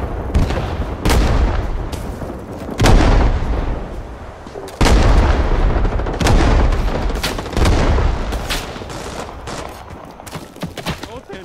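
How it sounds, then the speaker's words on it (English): Artillery shells exploding in the video game Rising Storm 2: Vietnam, a barrage of loud, booming blasts and rumbling gunfire, with several heavy impacts landing at irregular intervals, some close and some further off. "Artillery will drop on F4, take cover"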